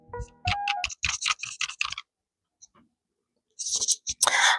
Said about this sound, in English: it made it so it's easier to type with nails